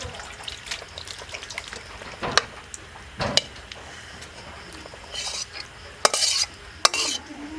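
A metal utensil scrapes and clinks against a cooking pot as mutton curry is served out, giving a series of sharp, separate knocks and scrapes with quieter stirring between them, and no voices.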